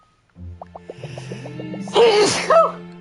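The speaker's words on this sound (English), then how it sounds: "Oh, I need to sneeze." A single close, loud sneeze bursts out after a few soft breathy intakes, with a short sniffle trailing off at the end.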